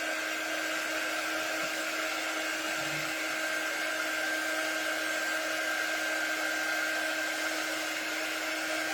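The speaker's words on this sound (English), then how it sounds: "make sure I dry the whole thing really well" A hair dryer blows steadily and loudly to dry a Christmas decor craft piece, a continuous whirring rush with a constant tonal motor whine and no pauses.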